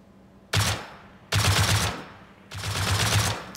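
Three sustained bursts of automatic gunfire in the video game Rust, fired while knocking out a turret, loud and close with short pauses between the volleys and no voices.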